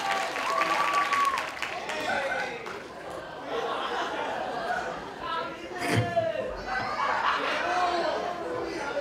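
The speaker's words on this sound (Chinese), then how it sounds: "大家掌声鼓励一下" Audience applause at a dance showcase, clapping steady under chatter and a lively crowd, with a loud burst near the middle; people talk throughout.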